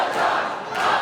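A wrestling crowd jeers at the wrestler Greek God, a loud, continuous mass of shouting voices in a brief burst.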